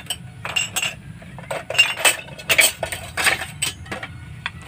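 Utensil stirring homemade medicinal oil in a pot, giving repeated soft metallic clinks and scrapes in an irregular rhythm, close and fairly clear with no talking.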